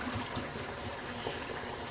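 Tap water runs steadily for rinsing a face after shaving, a continuous close splashing gush with no talk.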